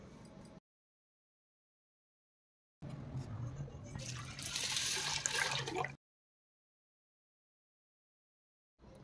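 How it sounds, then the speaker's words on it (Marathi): Water poured from a cup into a pot of mixed toor and chana dal, a short splashing pour of a few seconds between stretches of silence. "एका पातेल्यात दोघी डाळ मिक्स करून त्यात 2 ते 3 पेले पाणी घालू"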